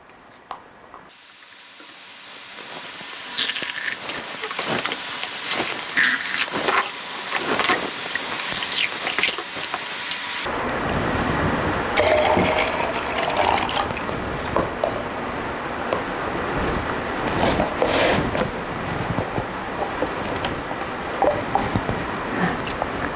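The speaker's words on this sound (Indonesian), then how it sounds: "masing-masing botol kita isi air dengan gelas air mineral sebanyak 2 gelas" Two glasses of mineral water are tipped into each of two bottles, giving a continuous splashing, gurgling pour that starts with scattered drips and taps and swells into steadier, louder rushing water midway, with no voices.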